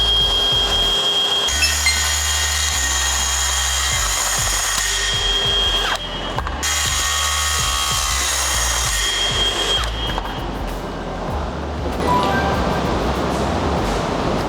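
A metal cut-off saw cuts threaded rod, with a high whining motor drone that starts after a short pause, breaks briefly mid-way, then resumes with a rougher, grinding texture near the end.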